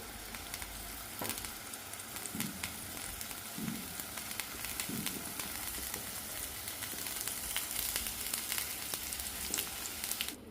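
Tomatoes and raw mango pieces laid into hot oil sizzle and crackle steadily in a pan. The frying noise holds at a constant level throughout, with no talking.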